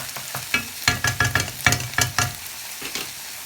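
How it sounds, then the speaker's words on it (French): Chicken and shrimp Chinese noodles being stirred in a hot pan as soy sauce is added to deglaze, giving repeated rhythmic bursts of loud close sizzling with scraping stir strokes and no voices. "Donc, là, nous allons déglacer"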